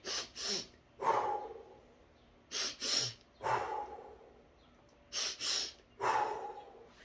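Breathing in a repeating pattern: two quick sharp inhales followed by a longer exhale, cycling three times, close and clear with no talking.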